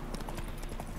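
Horse hooves clip-clop in a quick trotting rhythm on a road in The Witcher 3, muffled and steady under a game soundscape.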